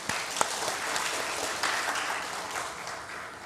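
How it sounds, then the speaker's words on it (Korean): Church congregation applauding steadily during a sermon, a soft, even wash of many hands clapping at moderate distance with a couple of sharper claps standing out. "박수하겠습니다."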